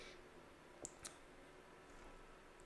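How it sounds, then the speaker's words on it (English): Two crisp mouse clicks come close together, very faint against a quiet room hush. "I'm going to click close."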